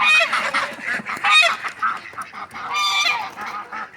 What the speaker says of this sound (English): One of our white Chinese geese,